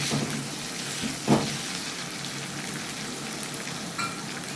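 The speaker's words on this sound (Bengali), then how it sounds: "পেঁয়াজটা লাল লাল ভাজা হয়ে গেছে প্রায়।" Onions fry in oil, nearly reddish-brown, with a steady moderate sizzle and a couple of brief stirring scrapes, with no voices over it.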